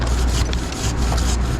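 A dull handsaw cuts through a felled basswood (Tilia americana) branch, giving close, continuous raspy strokes with a rough rubbing texture and no voices.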